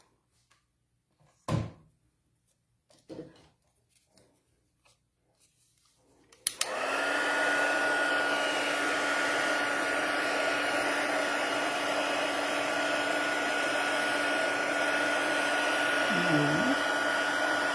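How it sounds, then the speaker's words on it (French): A few knocks and handling thuds, then a hair dryer switches on and blows a steady, close whine and rush, heating embossing powder for a card background; a brief word is spoken just before it starts. "Je vais aller chauffer."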